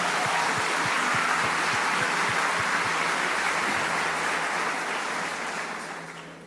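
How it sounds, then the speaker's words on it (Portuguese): Congregation in a church applauding at a pastor's service, a broad sustained wash of clapping across a large crowd, steady and full before tapering off at the end, with no talk over it. "Uma salva de palmas para eles"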